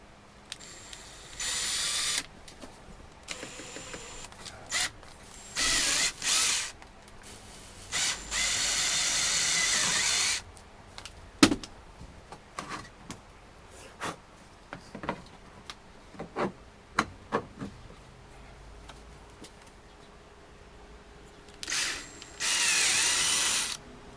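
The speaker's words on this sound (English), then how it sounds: "Now you're going to drill that with a 5/16 drill bit" Power drill boring holes through the metal side door of a Promaster van with a 5/16 bit and a wood block behind, heard as several separate bursts of loud whirring with quiet handling clicks and pauses between.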